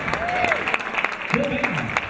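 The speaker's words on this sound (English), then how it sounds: "I'd like to give them a round of applause while you're at it." Wedding audience applause for the vocalists and instrumentalists, a steady patter of clapping from a modest crowd heard under someone speaking over a microphone.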